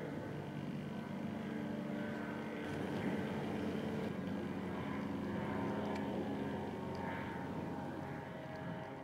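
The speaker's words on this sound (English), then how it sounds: "You can pretty much always hear planes overhead." A propeller airplane drones faintly overhead as a steady, distant hum above a green forest, continuous and unbroken, with no talking.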